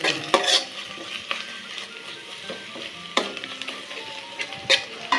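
Watermelon rind being stirred and sautéed with salt in a pan for halwa, with a steady sizzle and repeated scraping and clinking strokes of the spoon against the pan, alone with no talk.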